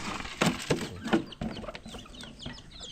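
A rooster clucks in a poultry yard, several short irregular calls close by, alone with no talk.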